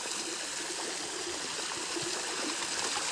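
Water from a newly installed automatic garden waterfall feature with a reservoir runs steadily into a small stream, giving a continuous close, even trickle and splash with no talking.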